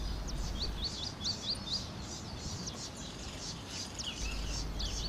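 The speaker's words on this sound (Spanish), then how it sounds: "Esta es la tacuarita azul, un pequeño y confiado pájaro que se encuentra en la etapa de reproducción" A masked gnatcatcher sings a series of thin, high chirping notes repeated in quick phrases, heard at moderate distance over a steady outdoor hiss of wind and natural background.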